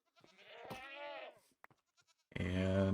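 A screaming goat in the Minecraft video game lets out a shrill, wavering bleat, then a brief pause with small clicks and a second loud, harsh scream at the end.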